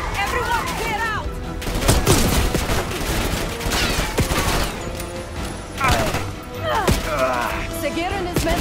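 Gunfire in Call of Duty: Black Ops 6 crackles as rapid bursts and automatic volleys with crashes and thuds, loud and continuous under shouting voices and a game soundtrack.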